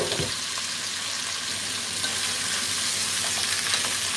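Sausage, ham and half an onion fry in oil for a soup, giving a steady, loud, close sizzle with faint stirring that lasts the whole time and has no talk over it.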